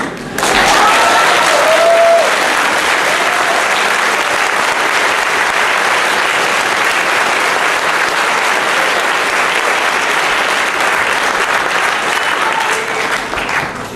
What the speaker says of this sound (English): as soon as I say fresh, please stand up and clap